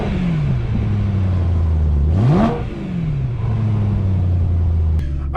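A BMW E93 M3 convertible's engine revs through its exhaust, a steady deep idle rising sharply into one loud throttle blip, then falling back to the rumble, heard up close without talk.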